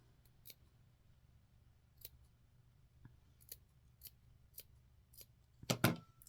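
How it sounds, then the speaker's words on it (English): Scissors snipping into a fabric seam allowance on a small doll dress, close and quiet, with about eight separate crisp clips at uneven intervals and a louder double snip at the end. "We're now going to clip into the seam allowance so that we flip it inside out."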